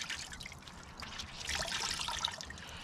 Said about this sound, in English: So all we do is wring it out by hand.